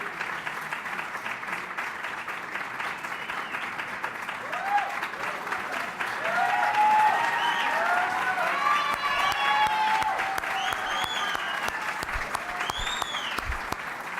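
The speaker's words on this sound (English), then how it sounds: "We can do a nice round of applause first." Sustained applause from a large crowd fills the room, steady and dense throughout, with a few cheers and whoops rising over it.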